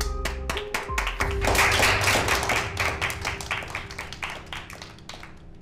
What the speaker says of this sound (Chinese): 希望大家给她掌声